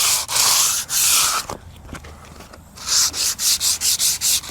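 Fiberglass body filler on a 1956 Chevy being hand sanded, rapid scratchy back-and-forth strokes in bursts, with a short pause in the middle and then a quick run of evenly timed passes, close up with no talk.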